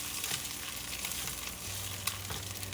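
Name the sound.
French toast frying in a pan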